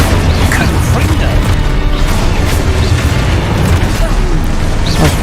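A Confringo blasting spell in Hogwarts Legacy detonates in a dense, continuous wall of loud booming and crashing, with no distinct separate hits. Game effects and chaotic background noise fill the whole stretch.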